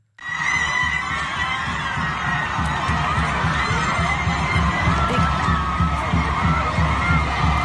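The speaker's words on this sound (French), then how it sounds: "Des cris de joie pour saluer la décision." A large crowd cheers in Argentina as abortion is legalized, forming a dense, loud, continuous roar with a rhythmic pulse like drumming or chanting underneath, and no break throughout.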